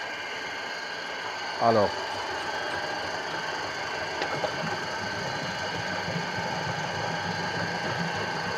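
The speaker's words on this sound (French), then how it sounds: "Je vais lancer ma machine." A machine mixing liquid soap runs with a steady droning hum and vibration, and someone speaks briefly over it near the start.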